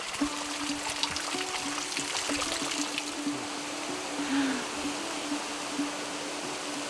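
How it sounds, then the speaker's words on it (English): Rushing water from Colombia's tallest waterfall, a steady broadband roar that stays fairly constant, heard from a short distance with no voices. "Tallest waterfall in Colombia?"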